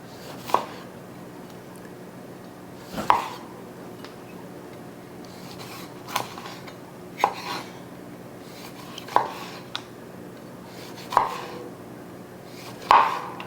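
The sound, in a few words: slicing a lemon into thin slices with a knife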